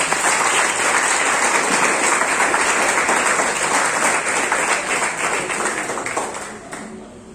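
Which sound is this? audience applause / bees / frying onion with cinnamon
audience applause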